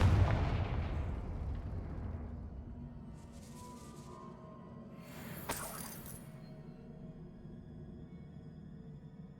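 A spell blast from the Confringo fire spell in Hogwarts Legacy on PS5 bursts out as a sharp crack, leaving a low rumbling roar underneath and a few fainter bangs.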